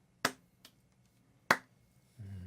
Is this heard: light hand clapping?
yes